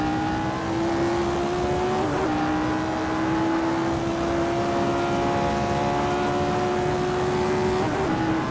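Engine of a Lotus 49 race car in the Assetto Corsa racing game, a steady, loud, buzzy drone held at high revs, with brief pitch jumps at gear changes around two and eight seconds, with no talking.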